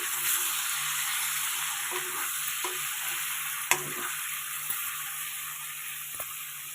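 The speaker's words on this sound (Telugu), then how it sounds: "ఆ టమాటా కూడా వేసుకోవాలి. వేసుకున్నాక ఒకసారి కలుపుకోవాలి." Tomato being stirred into a frying eggplant and potato curry, a constant bright sizzle with a few sharp spoon knocks against the pan, close, with no voices.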